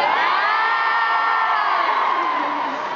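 A large concert crowd cheers and whoops continuously at an Olympia show, a dense, loud, steady roar of many voices with shrill shouts rising above it throughout.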